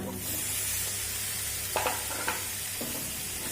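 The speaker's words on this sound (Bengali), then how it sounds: "দিয়ে আরও সুন্দর করে কষিয়ে নেব তবে যখন কষাবো একটু মিডিয়াম ফ্লেম করেই কিন্তু কষাবো" Fried grated coconut and boiled, squeezed banana flower sautéed in a pan over medium flame, a steady close sizzle with a few scraping stirs of the spatula, no voices.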